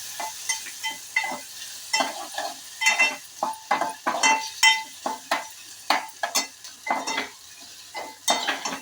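Chopped onion and tomatoes fry in a pan for a Kolhapuri sandge amti, with a spoon scraping and stirring in steady, rhythmic bursts over a low sizzle, close and fairly loud.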